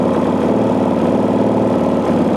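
A Gen II 4-stroke engine idles steadily during carburetor tuning, a loud, close, even mechanical drone with a regular low pulse and no talk.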